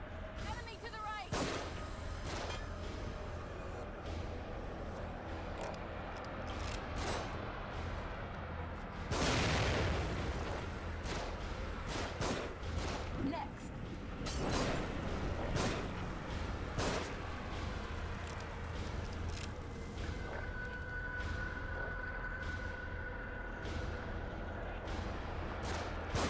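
Gunfire rains down from above in The Evil Within on PS3, with a dense run of sharp shots and booms that carry on steadily through the whole stretch, with a large blast partway through.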